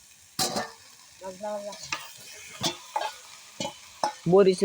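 Vegetable khichuri cooking in a pan in a village kitchen, with soft frying sizzle under intermittent stirring clatter and scraping, close by, while voices talk briefly in the background.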